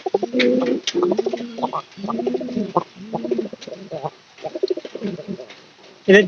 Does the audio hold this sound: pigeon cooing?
yes